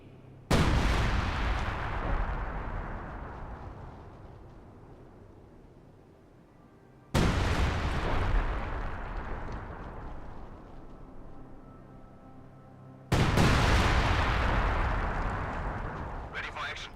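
Three heavy artillery blasts in Company of Heroes 2, each a sudden booming report about six seconds apart, followed by a long rumbling decay.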